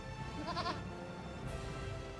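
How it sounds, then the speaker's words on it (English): Goats in the Eternal Sonata video game let out a brief quavering bleat over soft background music, followed by a faint second call. "Oh, it's more than one goat."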